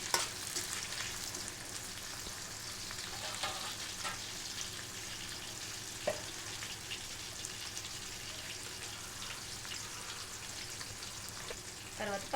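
Green chilies and onions frying in a pan for a chicken curry, a steady hissing sizzle with faint stirring scrapes, close and even throughout.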